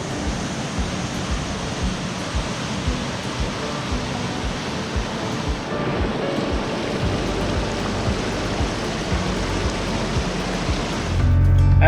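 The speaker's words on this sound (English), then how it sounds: "the water was flowing pretty hard" Rushing water roars continuously, a steady broadband churn of a river swollen by recent rain flowing hard near Gunlock, Utah, with a louder surge near the end.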